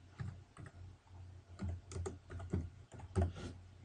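Keys on a computer keyboard tapped in short irregular bursts while a name is typed in, the clicks close and fairly quiet over a low background hum.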